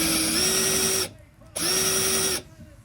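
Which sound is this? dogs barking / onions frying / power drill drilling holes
power drill drilling holes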